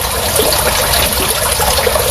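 Tap water runs in a loud, steady, broadband rush up close on a rooftop, continuous and unbroken with no voices.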